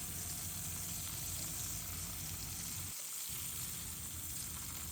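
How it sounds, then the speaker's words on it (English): Fish pieces shallow frying in oil in a pan for a Sindhi-style methi fish curry, a steady close crackling sizzle with one very brief dip partway through and no talking. "We will now fry the fish for just 1 minute from both the sides till the color slightly changes"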